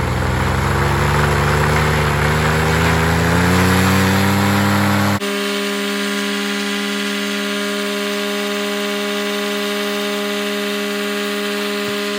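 A paramotor engine revs hard and rises in pitch for about five seconds, then settles into a steady, loud, high-pitched drone that continues to the end.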